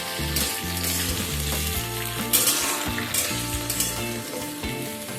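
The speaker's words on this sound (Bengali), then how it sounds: "এবার এগুলোকে অল্প কিছু সময় নিয়ে একটু ভেজে নেব।" Radish and flat beans frying in a pan, giving a steady, loud hiss of sizzling oil close by, with occasional stirring scrapes and clatter throughout and no voices.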